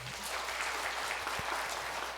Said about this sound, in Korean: 여러분 큰 환영과 격려의 박수 보내주시기 바랍니다